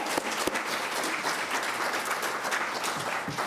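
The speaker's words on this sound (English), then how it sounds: "Please, a round of applause." An audience at a nutrition science conference applauds the speakers, a continuous wash of many hands clapping at moderate volume with a few sharper individual claps standing out.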